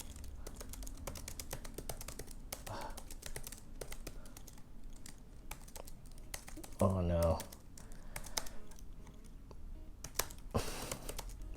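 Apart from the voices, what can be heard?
typing on a computer keyboard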